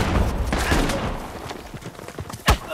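Sniper and other gunfire sound during a firefight in the video game Uncharted 4: The Lost Legacy. A dense clatter of shots continues throughout, and one sharp, louder crack stands out near the end.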